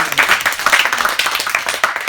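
An audience at a live comedy show claps together, a loud, close patter of many hands in a brief, steady burst.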